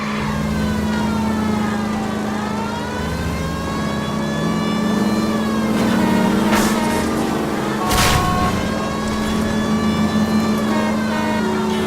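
Cars racing in an illegal street race in the video game L.A. Noire, engines droning and revving continuously with rising and falling pitch and a loud whooshing pass, no voices.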